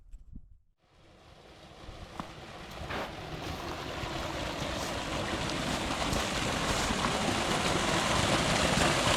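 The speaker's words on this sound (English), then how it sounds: "I just seen this much water coming through the fields" Rushing water swells from near silence into a loud, steady roar as field runoff flows through a culvert along a railway, growing stronger throughout.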